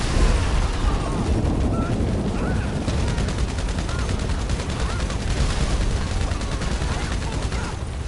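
Compact rifle gunfire in GTA Online, a dense, steady roar of rapid shots and blasts running throughout without a break, with a voice speaking over it.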